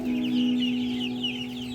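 A Rhode Island Red chicken clucks repeatedly at close range while it is being weighed, its choppy calls riding over a steady low electrical hum.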